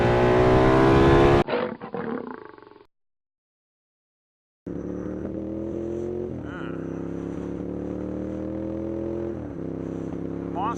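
A motorcycle with loud aftermarket exhaust pipes idles and rumbles at close range after a sharp burst of revving, with a brief silent gap before the steady, throaty exhaust note resumes.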